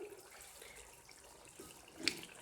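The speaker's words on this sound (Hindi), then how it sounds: "और अब इसके अंदर पुलाव पकाने के लिए पानी ऐड करती हूँ।" Water runs steadily into a pot for cooking chicken pulao, a soft continuous splashing stream with a brief louder splash near the end.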